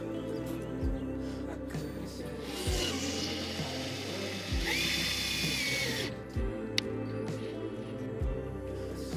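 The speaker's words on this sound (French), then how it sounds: "on utilise des vis autoforeuses pour être directement fixées dans la carrosserie" A power drill drives self-drilling screws into the metal bodywork of a 4x4, close and loud, in repeated whining bursts that rise and stop several times.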